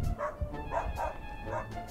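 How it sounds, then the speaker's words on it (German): A hunting dog gives tongue at a fox den in the snow with about four short, muffled barks at an even pace. The barks are moderately faint, as if coming from underground or some distance away. "Der Hund gibt laut."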